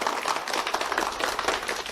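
Warm applause welcomes guests at a corporate event, brisk and dense clapping from a crowd, loud and continuous for its short length.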